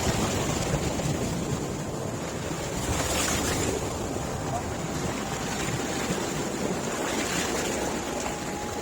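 A waterfall in Gilgit-Baltistan roars with steady rushing and splashing water, dense broadband noise close by with gusts of wind across the microphone.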